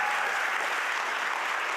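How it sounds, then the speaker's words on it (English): Applause from the audience at the San Diego State of the County address, a dense, steady wash of many hands clapping together, loud and even throughout the short burst. "You can clap."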